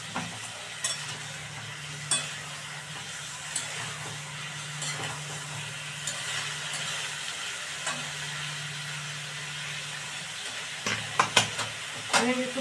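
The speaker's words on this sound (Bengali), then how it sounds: "এই যে ফুলকপিটা আমার ভাজা হয়ে গেছে" Cauliflower frying in plenty of oil in a pan produces a continuous, moderate sizzle with soft stirring scrapes and a few sharper utensil clicks toward the end.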